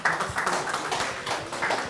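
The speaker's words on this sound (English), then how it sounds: "Can we have a big round of applause for him?" A conference audience applauding a keynote speaker on AI leadership, a brief patter of scattered hand claps in uneven bursts, moderately near.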